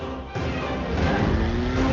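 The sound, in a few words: bank van speeding along the road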